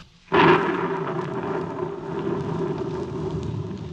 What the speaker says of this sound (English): Know them now as the thunder sings its hymn to Hades, and the lightning lashes at the soul of man.